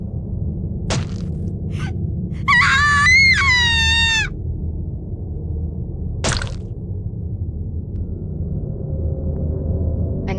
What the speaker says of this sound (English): Let me hear those primal screams.